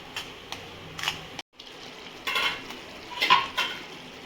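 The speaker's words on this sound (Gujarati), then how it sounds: "હવે ટામેટાની જ્યાં સુધી ટામેટાની ગ્રેવીમાં તેલ છૂટું ન પડે ત્યાં સુધી એને સાંતળીશું" Tomato gravy sautéing in oil in a pan for paneer kolhapuri, with scattered spoon stirs and scrapes against the pan, a brief silent break, then louder clinks and sizzle bursts near the end; no talking.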